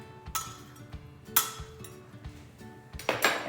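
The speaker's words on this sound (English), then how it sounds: "I'm gonna stir it up just a little bit." A spoon stirs a foamy yeast mixture in a bowl for cinnamon roll dough, giving a few light clinks and taps against the side in short bursts over quiet background.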